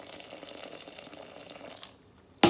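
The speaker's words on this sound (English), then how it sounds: "get the trusty kettle and pour boiling water on to" Boiling water pours from a kettle onto fishing pellets for groundbait, a steady splashing trickle that fades out, then a sudden loud gush close at hand near the end.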